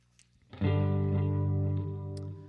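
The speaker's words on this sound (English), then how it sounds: "I'm going to push the mix down on the reverb, so a little bit less on that." A single guitar chord rings out through a Line 6 DL4 MKII with reverb, struck once after a few faint string touches, then sustaining loudly and slowly fading with a soft ambient tail.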